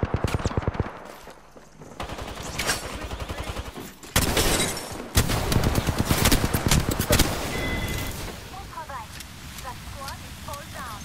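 Gunfire in the video game Apex Legends, with loud bursts of rapid automatic shots and single cracks spread through a busy firefight, mixed with game effects and voice callouts.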